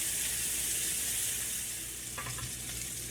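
Beef short ribs sear in a hot pan with a steady, close sizzle and a few brief crackles near the end, no voices over it.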